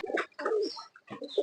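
A pair of Teddy breed Pakistani pigeons coo softly and close by, with several short, throaty coos following one another in an uneven rhythm.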